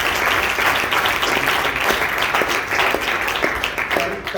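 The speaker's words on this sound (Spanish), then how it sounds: "Hermano, denle palmas a nuestro Dios" A church congregation claps steadily in praise of God during a sermon, a dense, sustained wash of applause with a few sharper claps near the end.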